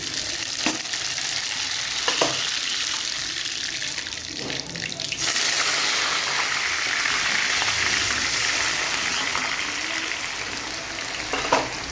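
Hot oil frying in a pan for raw mango chutney, a loud, continuous hissing sizzle that grows brighter midway through, with a few faint utensil taps.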